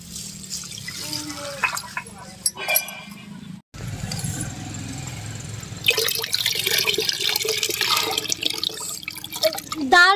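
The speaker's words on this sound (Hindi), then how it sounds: "अरहर की दाल है और ये उड़द की दाल है। तो दाल हम धुल के साफ करेंगे।" Arhar and urad dal rinsed in water in a home kitchen, with close splashing, dripping and rubbing of lentils, a short pause midway then louder sloshing, while someone talks over parts of it.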